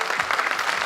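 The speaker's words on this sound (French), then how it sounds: "Des applaudissements." Audience applause at a civic anniversary ceremony in Namur, a brief dense patter of many hands clapping, steady and moderately loud.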